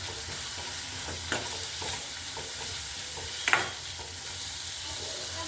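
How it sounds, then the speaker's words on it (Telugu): Dried prawns with onions sizzle softly in a curry pan, a low continuous frying hiss under a few light scrapes and clacks of a spoon stirring, fairly quiet and without speech. "ఇప్పుడు ఒకసారి తిప్పేసుకుందాం"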